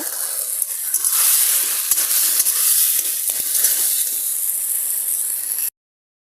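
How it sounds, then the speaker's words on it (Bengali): Vegetables sautéing in a hot pan, a loud, bright, continuous hiss and sizzle with a few stirring scrapes, close up, stopping abruptly near the end. "আমি কিছুক্ষণ এখন সবজিটা ভালো করে কষিয়ে নেব।"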